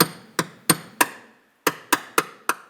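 A metal punch is tapped sharply into the centre pin of a car trim push pin during leak detection pump replacement on a 2004-2010 BMW X3: eight crisp, close knocks with a short pause midway.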